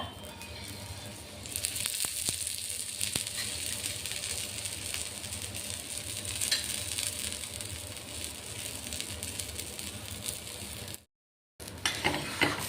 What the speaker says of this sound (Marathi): साईडने थोडं तेल सोडतोय आपण आता